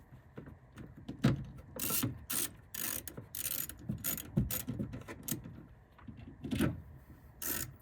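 Quiet ratcheting clicks and metallic rasps as the four bolts on an F-150 power mirror mount are started by hand, in short irregular bursts close by, with no talk.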